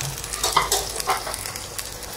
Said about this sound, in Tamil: நம்ம ஆனியன் நல்லா சாஃப்ட் ஆகிற வரைக்கும் இந்த மாதிரி நல்லா சோட்டை பண்ண முடியும்